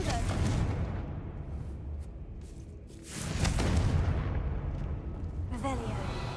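Confringo fire spell in the Hogwarts Legacy video game, with loud booming blasts that rise sharply around the middle and are followed by sustained rumbling, crackling bursts.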